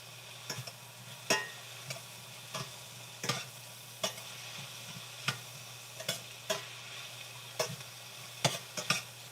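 Garlic and peppers fry quietly in a pan, a soft continuous sizzle punctuated by regular sharp clicks and taps of a utensil stirring against the pan.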